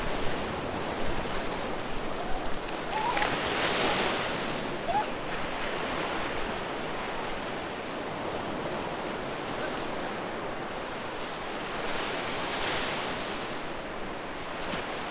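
Sea waves wash steadily onto a beach on the east coast at Pondicherry, a continuous broad rushing surf with gentle swells, close and fairly loud, mixed with some wind.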